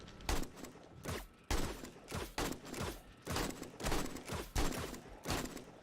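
Gunfire in the video game 7 Days to Die: a run of roughly nine sharp shots fired in quick, fairly even succession, each with a short tail.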